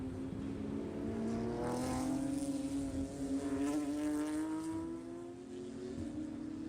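A Mustang race car accelerates hard on the Road America track during an eight-hour endurance race, its loud engine note climbing steadily in pitch and then easing and fading slightly toward the end.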